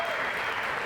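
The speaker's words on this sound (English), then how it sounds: "So give them a round of applause." Wedding guests applaud the couple in a dense, steady wash of clapping that fills the whole moment without pause.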